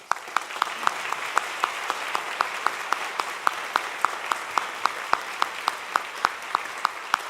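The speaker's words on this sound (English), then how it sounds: "so please give them a round of applause" An audience applauds music camp students at a junior high morning performance, a steady wash of clapping with a few sharp, distinct claps standing out across the whole stretch.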